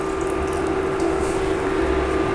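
Water is poured into a cooking pot on a stove while a pepper dish cooks, a steady continuous splashing and trickling stream that runs throughout at a close, moderate level with no talk.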